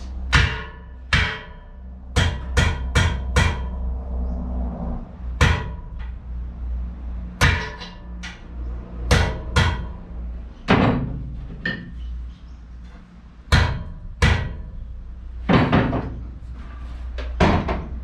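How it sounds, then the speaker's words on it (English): Sharp metallic blows from a 1.5 pound hammer ring out one at a time at irregular intervals, loud and close, striking hardened steel on a vise anvil, with no talking. "This time I'm going to use a hammer on the anvil on the vise."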